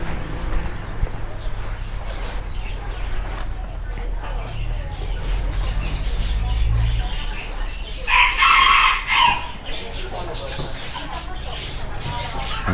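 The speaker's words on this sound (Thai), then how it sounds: "ไก่ชน" A fighting rooster crows loudly and close by at a busy outdoor animal market in Bangkok, one long crow rising over constant crowd chatter and background market noise, with people talking throughout.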